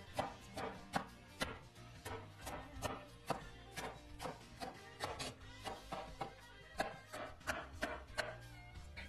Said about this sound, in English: then cut it into strips.